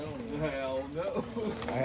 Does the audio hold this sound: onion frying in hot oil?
no